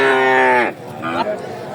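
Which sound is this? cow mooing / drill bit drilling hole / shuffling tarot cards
cow mooing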